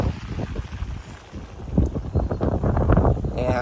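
Strong wind gusts buffet the microphone in an open vegetable garden, a steady low roar that swells louder in the second half, with faint rustling above it.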